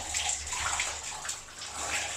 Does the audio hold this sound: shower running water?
yes